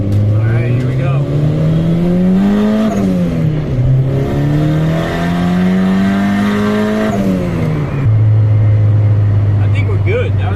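Turbocharged 1994–1997 Honda Accord with an F23 engine heard from inside as it drives and idles at a light, a loud, steady drone whose pitch rises and falls with the revs, with talking now and then over it.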